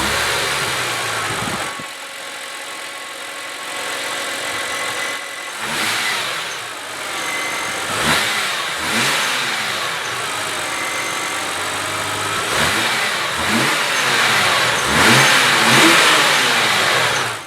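A warmed-up 2005 BMW 325i E90 automatic saloon cranks and fires, settles into a steady idle, then is revved repeatedly in short sharp blips, heard fairly close and alone without talk.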